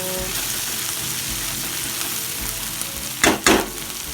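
Diced potatoes, onions and peanuts fry for poha in hot oil with a steady close sizzle, broken near the end by two quick louder bursts of stirring or tossing in the pan.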